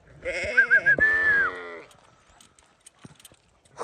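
Sheep out with a shepherd at night give a close, wavering bleat lasting over a second. Soft hoof taps and scuffs on the ground follow in a quieter stretch.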